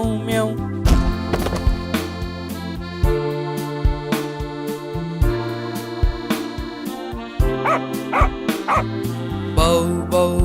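A children's Hindi nursery song with steady music, where the dog's bark comes as a sung, playful bow-wow imitation in a repeated rhythmic pattern rather than a real animal.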